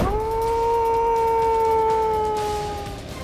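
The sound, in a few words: dingoes howling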